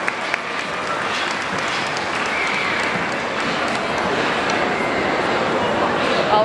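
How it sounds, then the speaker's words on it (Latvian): An audience at a pet expo breed demonstration claps steadily for several seconds, a dense, even wash of applause with a few faint dog yips in the background. "noteikti saņem saimnieces uzslavas aplausus Žanai un Bulatam."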